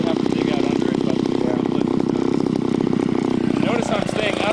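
A chainsaw running steadily while cutting in a yard, loud and close with a constant buzzing drone and slight pitch shifts as it bites, with a person talking over it.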